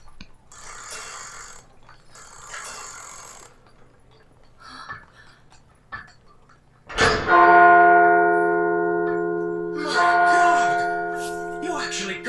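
An old broken clock from the anime D.Gray-Man starts working, with ticking and mechanical clicks followed by a loud, ringing bell-like chime that sustains and rings again, heard with some speech.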